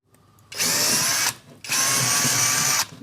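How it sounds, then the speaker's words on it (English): Power drill with an 8mm bit boring a hole into a plasterboard ceiling, two loud bursts of high whirring and grinding, a short one then a longer one, separated by a brief pause. "the hole that we're going to drill into the ceiling with an 8mm drill bit"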